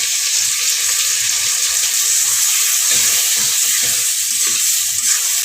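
Chopped tomatoes with spices frying in a pan, a loud continuous sizzle and hiss close by, with occasional soft stirring scrapes underneath.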